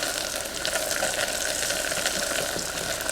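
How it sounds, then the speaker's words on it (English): Sage leaves sizzle and crackle in browning butter in a pan, a steady close frying hiss running throughout with no talking. "Butter is just browning, but before it's really brown, put the sage leaves in."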